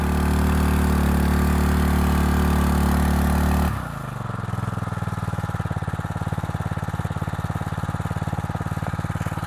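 A steady engine powering a homemade stand-alone fire-hose pump system idles close by, its low rhythmic chugging continuing after a brief loud revving section drops away.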